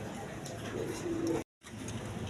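A pair of pigeons kept for sale coos softly in the background, low murmuring calls under ambient noise, with a brief dropout of silence midway.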